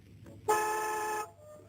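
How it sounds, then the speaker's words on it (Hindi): A single sustained car horn blast, loud and steady for under a second, standing out against a quiet background. "ऐसे हॉर्न तो बहुत सी गाड़ियों में होते हैं।"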